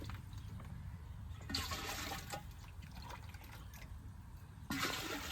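Water poured into a cooking pot being readied for Bengali khichuri after moong dal is fried, a steady splashing stream with two louder surges partway through and near the end.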